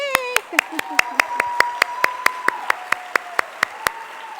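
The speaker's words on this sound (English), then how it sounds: "And we'll give Kristen a round of applause" Sharp, evenly spaced claps ring out at the Florida Teacher of the Year ceremony, a sparse steady beat under a speaking voice.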